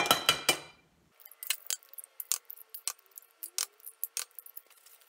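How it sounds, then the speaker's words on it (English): Six eggs are cracked one after another into a stainless steel pan: a few sharp taps and cracks, then a quick series of light clicks and knocks against the metal, close and clear. "I have 6 eggs I'm going to crack into my pan."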